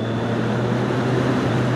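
A Triumph Daytona 675R supersport motorcycle engine drones at a steady pitch during a ride, heavily washed by rushing wind noise, loud and continuous throughout.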